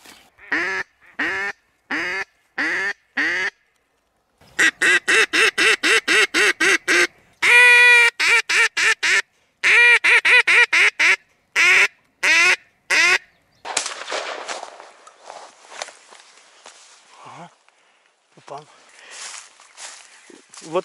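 Ducks quack in sharp, rhythmic bursts during a spring duck hunt on the Oka River with decoy hens, with loud rapid series near at hand, followed by fainter rustling and scattered calls as northern shoveler drakes arrive.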